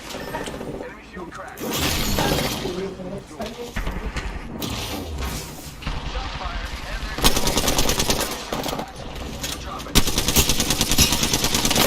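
Rapid bursts of automatic gunfire and sharp shots from the battle royale game Apex Legends crackle in repeated volleys, loud and dense, while a player talks throughout.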